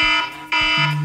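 A harsh electronic alarm clock blares in short, loud tonal bursts, pausing briefly before sounding again.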